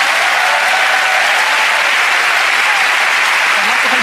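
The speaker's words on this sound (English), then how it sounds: "Give her a round of applause" A studio audience at a Penn & Teller: Fool Us magic show bursts into loud, dense applause, a continuous roar of clapping that holds steady throughout with no break.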